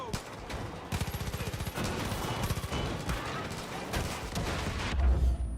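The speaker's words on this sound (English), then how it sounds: "I was trying to shoot the tires." Gunfire aimed at truck tires in Far Cry 5, a quick rattling burst of shots followed by more scattered fire amid a busy, noisy mix.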